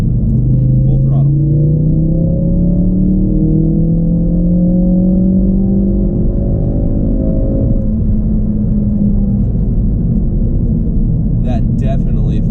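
A Ford Focus RS on a dyno with a stage 1 tune runs at full throttle, its loud engine note climbing steadily in pitch through the gears, then holding a heavy drone as a voice comes in at the end.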